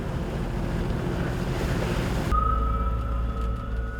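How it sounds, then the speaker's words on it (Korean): Rough sea off Jeju just after a typhoon, with steady wash of heavy waves and wind buffeting the microphone aboard a fishing boat, broken by a sudden shift to a lower engine hum. "태풍이 지나간 직후 제주의 바다는 아직 파도가 거셉니다."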